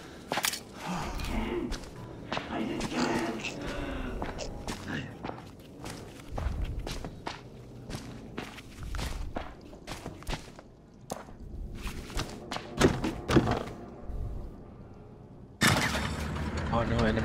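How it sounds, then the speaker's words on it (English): Heavy footsteps in the horror video game The Outlast Trials, a series of loud, thudding steps repeating through the stretch under ongoing talk and other game noise, with a louder burst near the end. "I hear some heavy ass footsteps."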